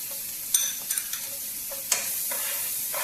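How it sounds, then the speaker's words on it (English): Chopped onions sweat in butter in a pan, giving a steady soft sizzle with a few light utensil taps and stirring clicks close by. "We sweat the onions a little bit."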